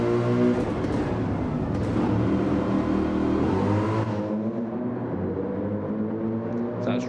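Race car engine in Gran Turismo 7 at the Red Bull Ring, a steady loud drone with stacked harmonics as the car pulls out of the pits and accelerates, fading slightly toward the end, no talking over it.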